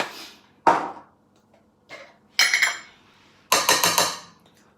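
Seasonings, whole grain mustard and salt being mixed in a bowl, with four bursts of clinking and scraping, the last two louder and more rattling, separated by brief quiet gaps.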